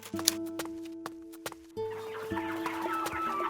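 Farmyard chickens clucking and squawking in short bursts over soft hoof-like clopping and a sustained tonal backdrop, fairly quiet and mixed with other barnyard animal sounds, no voices.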